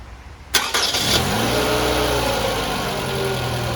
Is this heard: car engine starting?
yes